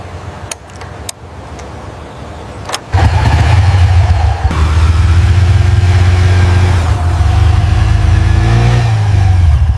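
A motorbike ridden on a road, its engine revving up after a brief start and then holding a loud, steady droning hum with rising and falling pitch as it cruises close by.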